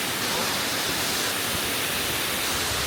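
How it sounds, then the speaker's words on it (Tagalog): A waterfall at Cat Cat Village in Sapa, Vietnam, gives a steady, dense broadband rush that fills the whole short stretch without pause or voices. "Yan yung waterfall ko."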